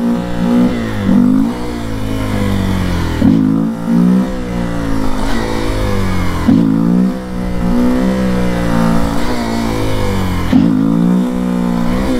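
A Honda XRE 300 motorcycle revs hard in first gear, its engine note climbing and dropping in repeated loud surges roughly every three seconds, close and continuous without speech.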